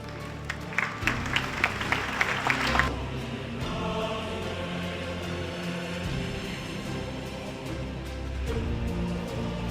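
Audience at the 20th Respect for History local conservation awards in Izmir clapping briskly and loudly for award recipients, then the applause breaks off abruptly and a steady hall murmur with a speaking voice follows.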